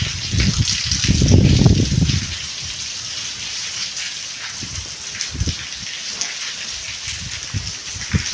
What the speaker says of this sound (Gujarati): વરસાદ પણ અત્યારે ચાલુ છે